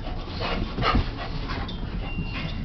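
Boxer dog whimpering and snuffling during play, a continuous close, noisy mix of whines and soft breathy sounds with no talk over it.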